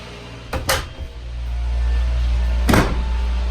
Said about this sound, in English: So I've got the bathroom door hung, and it closes nice.